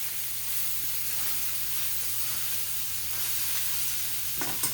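Mountain lion burgers fry in a pan over medium heat, giving a steady, close crackling sizzle that holds through the whole stretch with no talk over it.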